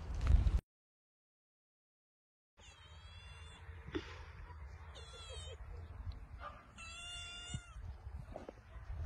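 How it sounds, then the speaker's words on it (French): A cat on a vegetable farm meows several times in short, rising calls across the stretch, fairly close, over faint outdoor background noise after a brief silent gap. "Ah bah oui, les vidéos avec les chats."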